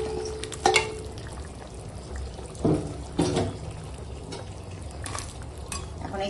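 Fried bhetki fish bones drop into simmering gravy in a pan, bringing soft sizzling, a few sharp clinks of a utensil against metal and stirring scrapes spaced through the moment.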